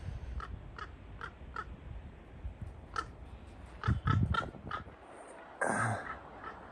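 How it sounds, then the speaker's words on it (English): Crow or raven cawing outdoors at a cloudy beach, a series of short harsh calls at moderate distance, some louder bursts near the end, over steady ambient noise. "crow or raven?"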